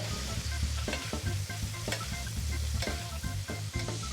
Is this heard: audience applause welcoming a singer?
no